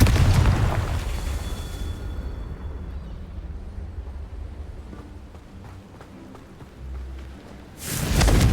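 A Confringo blasting spell goes off in Hogwarts Legacy with a loud, deep booming burst that rumbles and fades over several seconds, followed by another heavy blast at the end.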